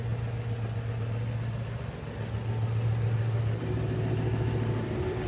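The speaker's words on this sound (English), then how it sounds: "I like it when the exhaust opens up. It's so deep." A Ford Mustang with a factory exhaust rumbles low and deep, a steady engine drone that swells slightly midway with no speech.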